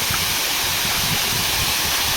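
A constant, close roar of falling water at the Gandatri waterfall in forest near the Orissa border, full and unbroken, with no talking over it.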